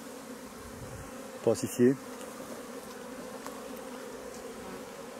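Bees from a small hive colony give a low, steady hum throughout, with a brief spoken voice cutting in partway before the buzzing carries on alone.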